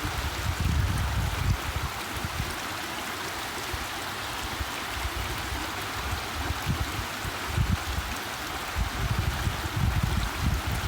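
Overflowing Bear Creek in the East Bay rushes past steadily, a dense continuous watery roar with low gurgling surges and no voices.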